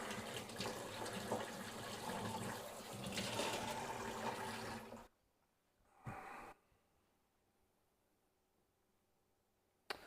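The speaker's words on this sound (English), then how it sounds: "Go ahead and wash off my microplane now." Water runs from a kitchen tap while a microplane grater is rinsed after grating garlic, a steady loud rush for about five seconds, then a short splash and near quiet.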